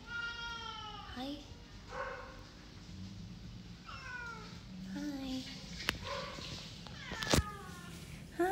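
A pet cat indoors gives several drawn-out meows, spaced a second or two apart, with a person talking nearby between and over the calls.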